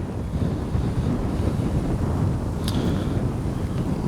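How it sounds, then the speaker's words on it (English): Steady, heavy wind buffeting outdoors at an RC jet flying field, a constant low roar with gusty rumble and no voices. "it was just too windy today to even bother with the flaps"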